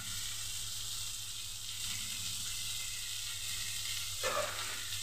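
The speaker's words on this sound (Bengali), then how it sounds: "এবার দিয়ে দেবো কালারের জন্য একটুখানি লঙ্কার গুঁড়ো, শুকনো লঙ্কার গুঁড়ো" Dried chili powder sizzles in hot oil in a pan for a fish curry, a steady soft frying hiss with a brief stirring scrape near the end.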